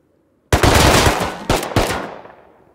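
Pistol gunfire in the survival game Rust: three sharp, loud shots, the first alone and the next two close together, each ringing out and fading with a long tail.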